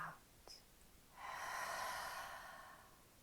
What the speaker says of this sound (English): Let's do that again as we breathe in